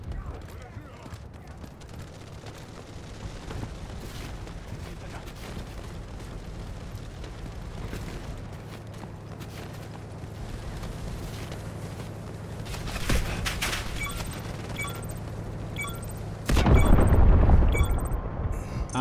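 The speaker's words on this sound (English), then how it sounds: "we just got blown the fuck up by a tank" Tank explosions in the Delta Force Mobile video game: a rumbling battlefield bed with scattered pops and a sudden deep, loud blast near the end, with voices talking over the action.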